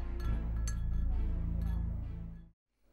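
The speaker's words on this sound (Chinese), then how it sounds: "为玉阶兄饯行，干杯" Glasses clink together in a celebratory farewell toast at a banquet, a few bright chiming taps over a busy room murmur, before the scene abruptly drops to near silence.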